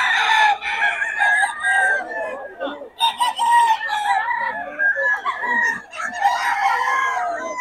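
A young stag rooster crowing loudly at close range, with drawn-out, strained calls and clucking mixed in, at a busy gathering of fowl.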